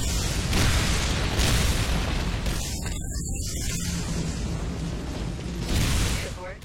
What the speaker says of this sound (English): Danger. Enemy airstrike.